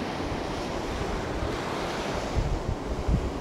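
Ocean surf rolls continuously against the shore with steady wind noise on the microphone, swelling into a few heavier wave surges near the end; no one speaks.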